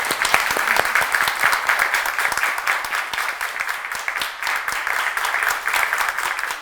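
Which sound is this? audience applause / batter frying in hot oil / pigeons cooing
audience applause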